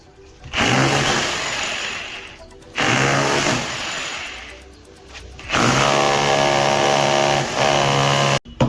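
An electric drill bores holes into a wall for casing-capping wiring, running in three long, loud, steady bursts separated by brief pauses, with no talking.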